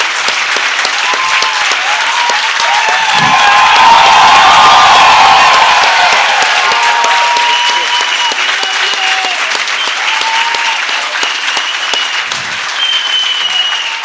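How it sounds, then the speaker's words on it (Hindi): A large live audience at a stand-up comedy show claps loudly and continuously, with scattered cheers and whoops rising through the middle before the applause carries on steadily. "वो भी तालियां बजा रहे हैं"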